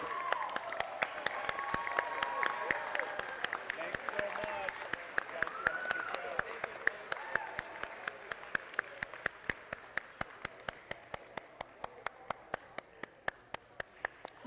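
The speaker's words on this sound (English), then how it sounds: "You can clap until they are all the way through the high five line." Sustained audience applause at a FIRST Tech Challenge robotics state championship in Nevada, a steady sharp rhythmic clapping that runs for the whole stretch and thins slightly toward the end, with a faint crowd murmur underneath.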